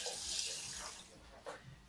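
Water poured into a saucepan from a tap, filling the pan with a steady splashing stream over nearly two seconds, fairly close and moderately loud, with a brief surge near the end.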